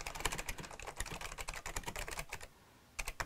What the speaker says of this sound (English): You can type to your heart's content.